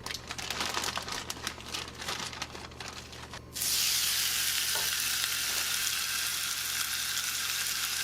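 Food cooking on medium heat in a pan, first with crackly stirring and scraping, then a loud, steady, close sizzle that fills the rest, with no talk.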